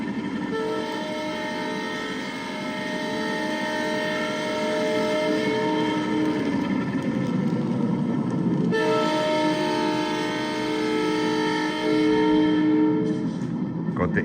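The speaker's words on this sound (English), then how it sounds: "Got the air horn nice and loud." The air horn on a 1/24 scale Cape gauge GE U26C Class 34 model locomotive blows loud and sustained in two long chord blasts with a short break between them, nearby and over a steady motor hum.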